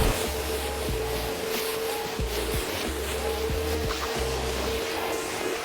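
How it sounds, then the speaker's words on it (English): A car being rinsed with a steady water spray while being prepped for polishing and ceramic coating, a continuous broadband hiss with a low rumbling hum underneath, close and constant throughout. "And now it's time to give it a rinse."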